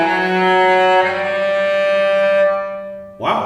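Cello bowed sul ponticello, near the bridge, giving a scratchy, nasal sustained tone with dense upper overtones for about three seconds, then a brief different burst at the end.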